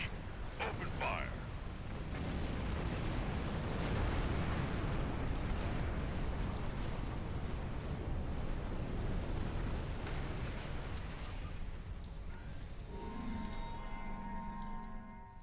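Sustained roaring barrage of weapons fire and explosions in a robot combat video game, a dense, loud continuous rumble and crackle that tapers near the end as tonal game sounds emerge.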